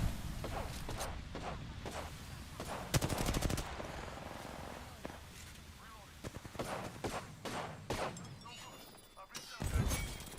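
Gunfire crackles in a video game firefight as scattered single shots and rapid bursts repeat throughout at a fairly low level, with other game sounds around them.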